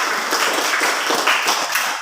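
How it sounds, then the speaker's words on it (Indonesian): A group claps briefly for classmates after their group presentation, a dense burst of applause lasting about two seconds. "Tepuk tangan untuk kelompok 3 dan kelompok 4."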